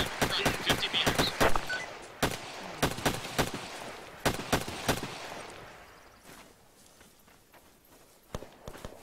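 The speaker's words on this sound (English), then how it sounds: "Enemy machine gun in front, 50 meters." An enemy machine gun in an ARMA battle fires quick clusters of sharp shots, first in rapid bursts and then in sparser, fainter cracks at some distance, with rustling movement underneath.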